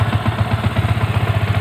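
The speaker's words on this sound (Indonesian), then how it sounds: "ini adalah bunyi suara motornya" A Yamaha Vixion motorcycle engine with a whistling whine fault runs at idle. Loud, close, rhythmic low pulses thump evenly, with a faint thin whine above them and no voices.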